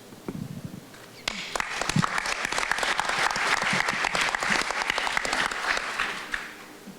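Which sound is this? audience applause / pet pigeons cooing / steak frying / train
audience applause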